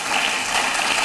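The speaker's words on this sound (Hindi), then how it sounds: "तालियां बजती रहनी चाहिए कुछ मिनट तक" Sustained audience applause, a dense even wash of clapping filling the whole stretch without a break, loud and steady, from a crowd at an interview event.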